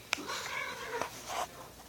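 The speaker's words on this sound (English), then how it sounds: "Do you hear this ridiculousness? My cat is a jerk." A house cat yowls and cries in a short vocal outburst near the microphone, with a sharp click at the start and a second rising call toward the end.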